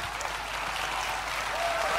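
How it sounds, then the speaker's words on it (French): A large crowd at an Apple keynote event applauds in a continuous, even wash of clapping, moderately loud and somewhat distant, heard alone without speech. "C'est un peu mou, non, les applaudissements."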